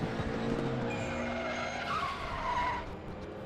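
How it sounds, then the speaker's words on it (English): Race car in a racing video game skidding after losing control on the Norisring track, a loud sustained tire squeal and engine roar with a rising screech, no talk over it. "and like Markovic, he just loses control of the car."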